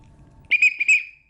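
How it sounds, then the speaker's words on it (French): A cyclist's safety whistle gives one shrill, loud blast that wavers slightly and then trails off, with faint low rumble just before it. "On a le sifflet"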